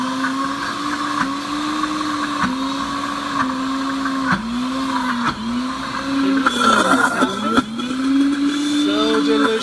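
A Pampered Chef Deluxe Cooking Blender churning almonds into almond butter, a loud close motor whine that dips and surges in repeated cycles as the thick mass catches and releases, growing rougher near the end.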